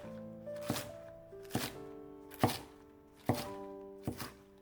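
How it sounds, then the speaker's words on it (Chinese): A knife chopping a bunch of scallions into segments on a board, five crisp evenly spaced chops, close and clear, with a faint background tone between strikes. "再准备一把小葱，切成葱段。"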